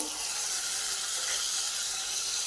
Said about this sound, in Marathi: टोमॅटो बी आपला 1 मिनिटभर चांगला परतून घ्यायचा।